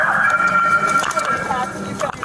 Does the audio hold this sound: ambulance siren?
yes